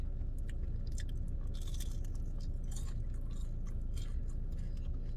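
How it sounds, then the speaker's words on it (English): Crunchy bites and chewing of regular Wendy's fries eaten close to the mic, a run of sharp crisp crunches over several seconds with no talking. "should I hear that crunch though?"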